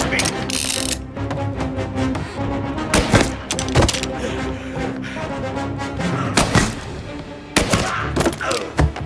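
Bursts of rapid gunfire from the video game Mafia: Definitive Edition, loud repeated volleys and single shots with mechanical clatter, mixed with shouting voices and game sounds.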